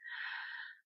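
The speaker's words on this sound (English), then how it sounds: "breathing in," A person takes one deep, slow breath in, a soft airy inhalation close up, under a second long, in an otherwise silent setting.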